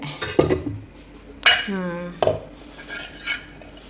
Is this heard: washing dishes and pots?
yes